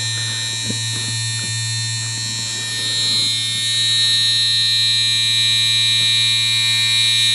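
Cheyenne Hawk rotary tattoo pen running at about 9 volts, with easy cartridges fitted: a steady electric buzzing hum throughout that grows slightly louder partway through, with no talking.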